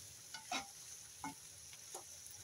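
Banana blossom being stirred in a pan as it sautés into a simple vegetable dish; a few soft, quiet scrapes and shuffles come at irregular moments over a faint background, with no talking.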